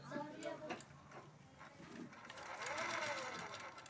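A sewing machine stitches blouse fabric in short, faint bursts of rapid clatter, heard under close-up talking.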